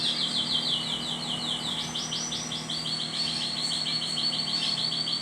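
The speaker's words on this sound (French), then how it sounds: "Ah, les oiseaux, on les entend là." Several small birds chirp and tweet outdoors in quick, repeated bursts, steady and fairly close, with no voices over them.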